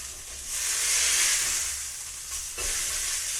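Pan-seared salmon fillet sizzling in a frying pan, a steady close frying hiss that swells and dips, with a brief clatter as the fish is turned, and no talking.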